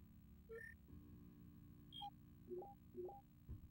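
Video phone dialing tones in the Enemy Zero video game: a string of short electronic beeps of shifting pitch over a steady hum, with a few single tones spaced across a few seconds, clear and alone.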